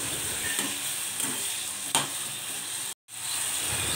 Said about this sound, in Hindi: तो बस इनको भी थोड़ा सा हल्का सा फ्राई करना है, जैसे हमने प्याज को फ्राई किया था वैसे ही हम टमाटर फ्राई करेंगे।